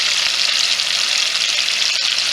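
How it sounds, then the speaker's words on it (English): Steaks sear and brown in a skillet for steak au poivre, giving a steady, loud, close sizzle throughout with no talking. "So I'm gonna let these brown up on the other side."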